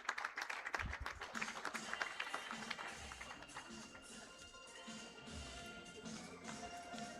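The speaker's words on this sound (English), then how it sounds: "A big clap for Kirinyaga County." Scattered, fairly faint applause from an audience at a health integration summit closing day, clapping for Kirinyaga County; irregular claps and taps that thin out over several seconds amid light room noise.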